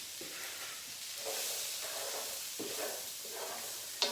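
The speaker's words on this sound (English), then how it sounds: "I'm gonna add some chopped onions and some very finely diced carrots. Okay, for those to saute in that bacon grease." Chopped onions and finely diced carrots sauté in bacon grease for baked beans, giving a steady close sizzle and hiss broken by soft stirring scrapes, ending on a brief clink.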